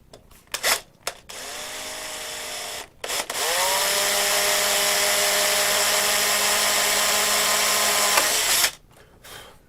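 A power drill whirs in a few short bursts, then runs steadily for several seconds at close range before stopping, while fitting landing gear to a Tower Hobbies Uproar V2 RC airplane.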